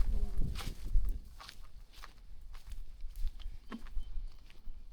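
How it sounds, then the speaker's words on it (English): Footsteps walking outdoors in a quiet, peaceful spot, a series of close, distinct steps in an irregular walking rhythm with no talking. "It's the first time I hear my footsteps in a long time."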